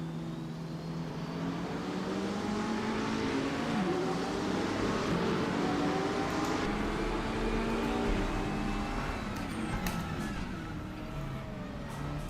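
McLaren race car in the RaceRoom DTM 2024 racing game, engine droning steadily with rising and falling pitch as it accelerates and shifts, heard from outside the car at a moderate level throughout.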